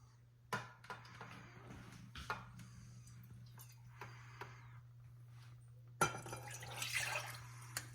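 Water is poured into a pressure cooker on a gas stove while making kansar, a Gujarati flour sweet, with a steady low hum beneath; a few drips and clinks come first, then a louder rushing pour near the end.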